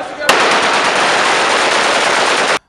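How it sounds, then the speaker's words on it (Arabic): A machine gun in the PUBG video game fires one continuous, loud, close-up burst into the air for over two seconds, then cuts off abruptly. "ويفضل يفضل من البدايه تاخذ لك سلاح واطلق في الجو"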